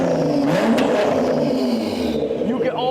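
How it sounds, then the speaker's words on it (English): Turbocharged car revving through an FMU exhaust, a loud, sustained engine roar with rising and falling pitch and a brief sharp spike near the middle, people talking over it. "you can hear the turbo. You can hear the turbo so good."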